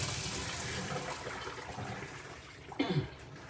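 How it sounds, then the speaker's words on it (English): Hot water from boiled corn drains and pours through a strainer, a continuous soft gushing splash ending in a brief louder slosh. "Let me drain all of this."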